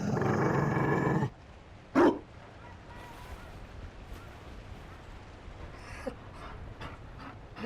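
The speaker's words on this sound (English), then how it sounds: "You found a dog." Mabari war dog in a fantasy video game, with a loud burst of low panting or growling at the start, then a short snarl-like bark, followed by quieter scattered game sounds.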